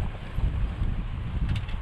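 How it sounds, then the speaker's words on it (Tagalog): Strong gusty wind roars and buffets the microphone, a heavy low rumble that never lets up, with no voices. "grabe ang hangin"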